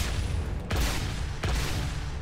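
MG42 machine gun fire in Brutal Heretic, heard as a dense, loud continuous roar of gunfire with two sharp bursts punctuating it, no voices over it.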